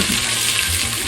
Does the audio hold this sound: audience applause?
no